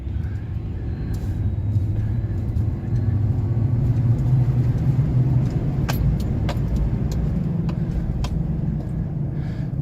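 Supercharged Chevrolet Silverado 5.3 Trail Boss pickup driving under load, its engine giving a steady, close low rumble and drone throughout, with a few light clicks and rattles from the cabin.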